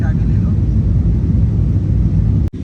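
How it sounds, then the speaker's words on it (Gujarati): Cabin noise on a passenger flight at night, bound for Hanoi: a loud, steady, low engine drone fills the whole stretch, with a brief dip just before the end. "વિમાન"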